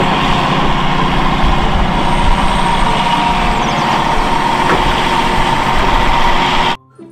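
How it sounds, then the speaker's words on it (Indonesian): A log grabber excavator's engine runs steadily and loudly at close range, a continuous heavy rumble that holds level for almost seven seconds before cutting off abruptly near the end. "Di sini ada ekskavator pencapit batang pohon."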